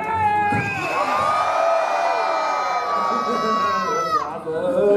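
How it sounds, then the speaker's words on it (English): A theater audience at the Monsters, Inc. show screams loudly in unison as a greeting, a sustained mass roar of many voices with whoops and children's shrieks lasting about four seconds. "You throw your hands up in the air and scream as loud as you can like you saw a monster."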